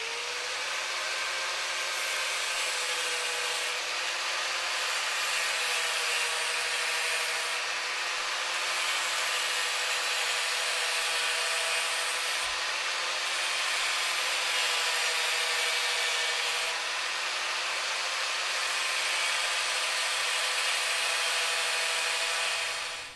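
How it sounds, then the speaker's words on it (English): A grinder cutting a Kydex sheet for a knife sheath, a steady high whine with a grinding rasp that holds nearly unbroken for over twenty seconds, close and alone. "Kydex is pretty easy to cut with a grinder, so I'm going to go ahead and try that right now."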